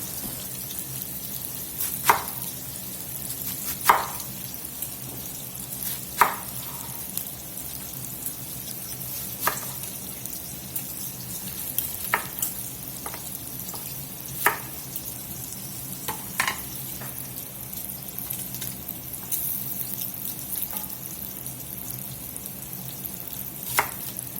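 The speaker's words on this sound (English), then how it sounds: "We want this to cook rather slowly and really render up the fat out of that sausage and bacon." Bacon and sausage frying slowly over a medium fire, giving a steady, even sizzle throughout with occasional sharp pops or utensil clicks spaced a few seconds apart.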